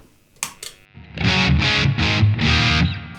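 Electric guitar through a Mooer Preamp Model X dirty Deluxe Reverb amp model, boosted by a Tube Screamer-style pedal. Two short picked notes come first, then four dense overdriven chord strums in a steady rhythm, loud and up close.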